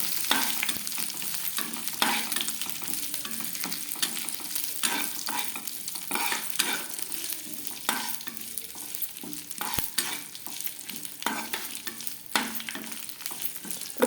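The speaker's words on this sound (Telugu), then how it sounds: "కడాయిలో ఆయిల్ వేసి ఆయిల్ బాగా కాగాక ఎండుమిర్చి, జీలకర్ర, ఆవాలు, కరివేపాకు వేసి బాగా ఫ్రై చేసుకోవాలి" Dried red chillies, cumin, mustard seeds and curry leaves fry in hot oil in a kadai, giving a steady close sizzle with crackles and stirring scrapes throughout and no voices.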